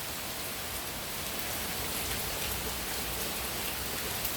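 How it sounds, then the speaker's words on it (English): Steady morning rain pouring down outdoors, a dense even hiss of drops on surfaces that stays constant throughout, close and fairly loud with no voices. "The good Lord has blessed us with some nice rain this morning,"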